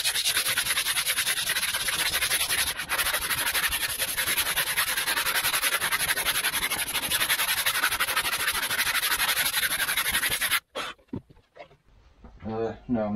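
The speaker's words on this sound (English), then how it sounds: "I'm just sanding it to get the most of it down with the coarse side" Steady, continuous abrasive rubbing from the coarse side of a sanding block on an electric model build, loud and unbroken for about ten seconds before stopping abruptly, followed by quieter scattered handling noises.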